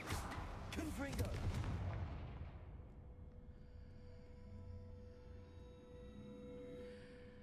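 A Confringo blasting curse from the Hogwarts Legacy video game bursts loudly with a crackling, booming explosion in the first two seconds, then decays into a long rumbling, ringing tail with faint voices underneath.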